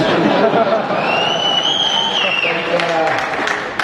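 Intense crowd applause at a bodybuilding seminar, a dense continuous wash of clapping and cheering with a few voices and whistles rising above it throughout.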